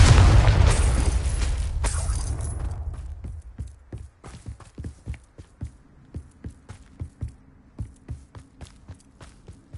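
A loud blast from the Confringo spell erupts in a Harry Potter video game and fades over about three seconds, followed by a steady series of soft footsteps.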